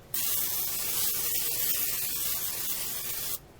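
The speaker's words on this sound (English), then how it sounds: "get a little bit of olive oil and spray it in that" A single continuous spray of olive oil into a bowl hisses for about three seconds, close and loud, then cuts off abruptly.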